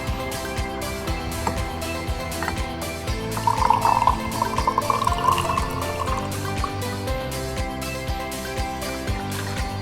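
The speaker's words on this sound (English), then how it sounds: "And pour." A shaken limeade cocktail poured from a metal shaker tin, giving a steady liquid stream that trickles and splashes against an ongoing background texture with no talking.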